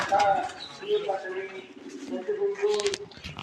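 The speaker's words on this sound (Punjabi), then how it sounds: "ਇੱਧਰ ਕਬੂਤਰਾਂ ਦੇਖੋ" Pigeons coo in low, soft repeated calls close by, mixed with faint chatter and rustling.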